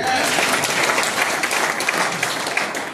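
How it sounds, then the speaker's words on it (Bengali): An audience at a health lecture about stem cells gives loud, dense applause. It holds a thick, continuous roar of many hands throughout, with no single claps standing out. "জোরে একটা হাত তালি।"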